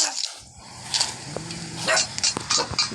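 A dog barks a few times in quick short bursts, close by and fairly loud, against a noisy indoor background.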